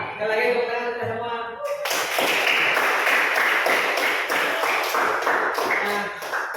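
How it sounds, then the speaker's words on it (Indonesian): A class of sixth-grade pupils in Indonesia breaks into a second round of hand clapping after a brief spoken line, the dense applause filling the room and lasting several seconds. "Nah, sekali lagi tepuk tangan kita semua."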